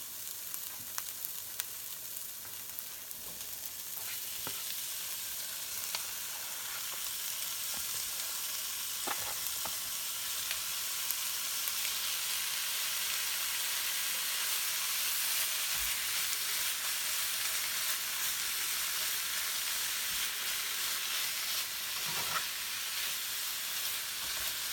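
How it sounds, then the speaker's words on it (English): Carne asada sizzles steadily in a pan with onions and garlic, a dense continuous frying hiss with a few faint clinks of stirring, no talk. "now we're gonna add our carne asada to it"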